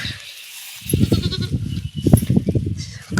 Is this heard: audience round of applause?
no